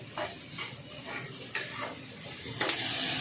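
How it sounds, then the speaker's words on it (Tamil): Onions sautéing in a pan for a curry, with a steady soft sizzle and a few brief stirring scrapes recurring throughout, close and moderately loud, with no talking. "இப்போ வெங்காயத்தை போட்டு இப்போ வதக்குறேன்"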